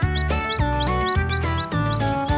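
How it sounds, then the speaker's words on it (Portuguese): A cartoon orange chick on a farm peeps in a quick, steady run of bright, high chirps over a constant bouncy music bed, with no talking. "Sim, é um pintinho!"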